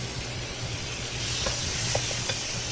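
Dry spice mix stirred into potatoes frying for a Bengali aloo torkari: a steady, close sizzle with soft scraping and stirring sounds throughout.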